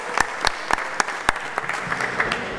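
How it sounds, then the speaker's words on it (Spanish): Audience applause at a ceremony for a family allotment garden competition, heard as sparse, distinct claps in a loose irregular rhythm, fairly close and moderately loud, with no talking over them. "Muchas gracias y un aplauso para ellos."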